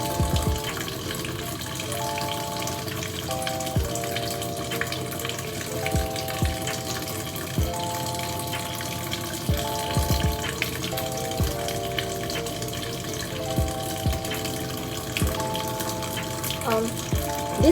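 Tap water runs steadily into a sink during handwashing, a constant close hiss of flowing water with soft background music underneath.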